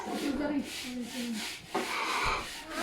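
Scrubbing during house cleaning makes rough, rhythmic rubbing strokes, close and moderately loud, with a few short bursts of voices nearby.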